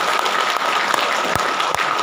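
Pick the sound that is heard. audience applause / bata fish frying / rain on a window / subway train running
audience applause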